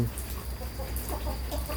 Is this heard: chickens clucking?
yes